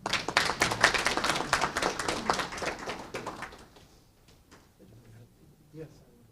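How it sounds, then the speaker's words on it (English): An audience applauds a doctor after a lecture on the Sikh genocide, with a burst of lively clapping that fades out after about three seconds, followed by quieter room sound and faint movement. "if you would please join me in applauding our beloved doctor"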